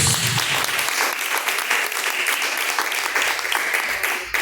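Congregation clapping in praise of God during a live church service, a loud continuous wash of hands that runs unbroken for over four seconds.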